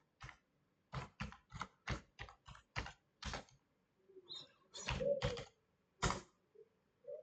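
Quiet computer keyboard typing on a Windows machine, a run of crisp individual key clicks in an uneven rhythm, close and faint, with a brief cluster of heavier keystrokes near the end and no talking.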